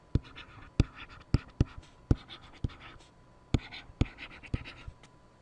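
Pen scratching out a math fraction by hand, a quick series of sharp close strokes and taps across a quiet background, with no talking.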